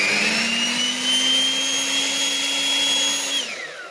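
A 3500W electric dust blower with a brushed carbon motor soft-starts and runs with a loud, steady high-pitched whine, then winds down near the end.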